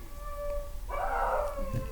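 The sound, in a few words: dog howling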